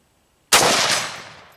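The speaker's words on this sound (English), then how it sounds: "Let's go ahead and shoot at the top right bad guy" A single sharp XM177 rifle shot firing 77 grain Sierra Match King rounds at a target, loud and close with an abrupt crack and a short decaying tail.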